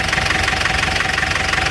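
A diesel car engine idles in steady condition, a rapid, even knocking chatter with a low rumbling drone underneath, close and constant throughout, with no talk.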